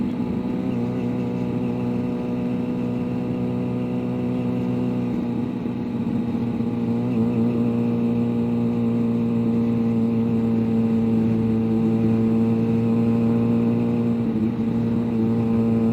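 Car driving along a road past parked cars, a continuous close engine drone with steady tonal hum throughout, no talking.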